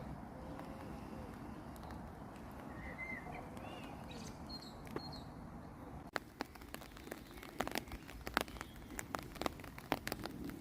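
Steady rain falling outdoors at a roadside hotel stop after a motorcycle ride, a soft continuous hiss with scattered sharper drips and taps, moderately faint, with faint bird calls in the background.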